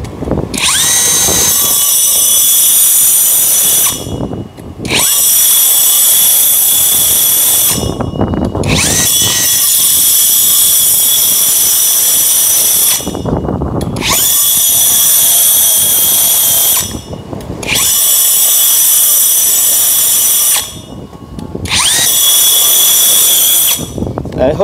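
A Hukan cordless core drill fitted with a 60 mm core bit bores into a wall, whining loudly and steadily with a high-pitched squeal. It runs in long bursts broken by brief pauses.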